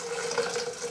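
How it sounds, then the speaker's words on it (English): Boiling water pouring into a home brew beer kit for an English ale, a steady close splashing and gurgling stream lasting under a second. "I'm going to top this up with 2 pints of boiling up water."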